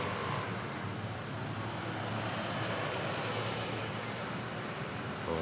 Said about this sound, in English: Air Asia, Cool Red arriving from Taipei on A320